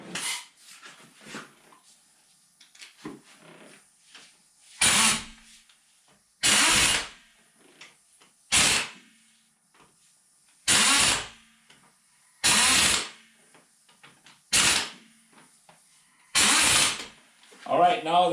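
An impact tool fires in short, loud bursts, about eight of them at regular intervals, as the wheel bolts of a 2013 Toyota Corolla are tightened in a cross pattern, with quiet clicks and handling noises between bursts.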